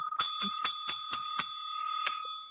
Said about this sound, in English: You ringing your bell?